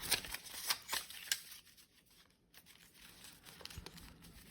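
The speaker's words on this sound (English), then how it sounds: "Do one more shuffle." A deck of cards being shuffled by hand, quick riffling and crisp flutters in a few short bursts, close and quiet, followed by softer handling sounds.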